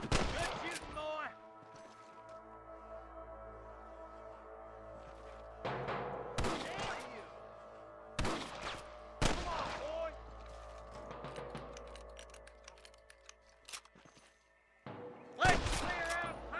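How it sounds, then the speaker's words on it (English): Sharp bursts of gunfire crack out in separate volleys in the video game Red Dead Redemption, some single shots and some rapid clusters, with quiet stretches and a low hum between them. "I can hear more gunshots."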